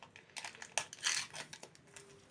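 A packet of instant yeast crinkles and rustles close by as it is handled, in irregular bursts of crisp plastic noise with a louder crackle near the middle.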